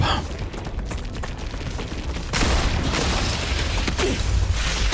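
Sci-fi gunfire in the game StarRupture rattles in dense, continuous bursts with booming impacts, growing heavier and louder halfway through, with no voice over it.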